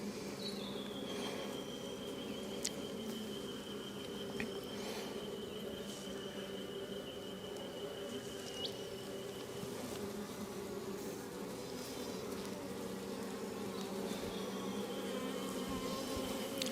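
Honeybees swarm and hum steadily inside an opened hive with drones present, a dense continuous buzz close to the listener, with a faint high whistle-like tone over part of it.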